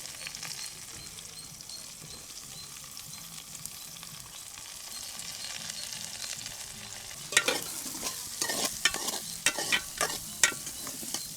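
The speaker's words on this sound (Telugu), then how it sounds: "బాగా వేపేసుకుందామండి ఉల్లిపాయలు పచ్చిమిరపకాయలు కరివేపాకు బాగా మగ్గనిచ్చేసి" Onions, green chillies and curry leaves frying in a pan, a soft continuous sizzle that turns into louder bursts of stirring and scraping in the last few seconds, close and without talk.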